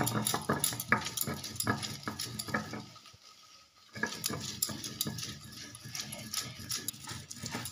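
Bottle gourd greens being ground into a paste on a flat grinding stone: steady rhythmic scraping and rubbing strokes up close, pausing briefly midway before resuming.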